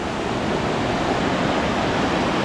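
Heavy rain pouring down on a mountain hiking trail, a dense, loud, unbroken hiss of falling water filling the whole moment with no voices.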